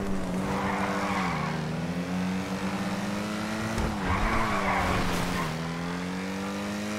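In a video game, a car drives at a steady engine drone, its tires skidding and squealing through turns, loud and continuous with no talking.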